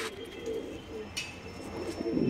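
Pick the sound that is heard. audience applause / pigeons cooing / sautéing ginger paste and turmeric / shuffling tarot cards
pigeons cooing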